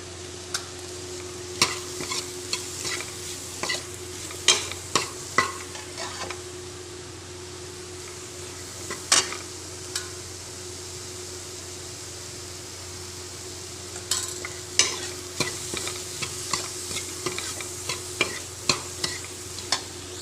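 Chillies, green chillies and spices frying in a pan, a steady quiet sizzle broken by sharp stirring clicks and scrapes in scattered bursts, close by with no talking.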